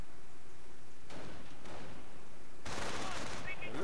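Rifle squad gunfire in Company of Heroes, a World War II strategy game: bursts of shots come in two clusters, a short one early and a longer, denser one near the end, over a faint background.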